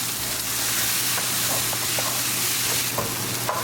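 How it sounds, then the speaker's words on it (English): Chopped onion cooks in garlicky oil in a pan for a green bean and taro root sabzi, producing a continuous bright hiss and sizzle with occasional stirring taps and no speech. "And we're going to cook our onion"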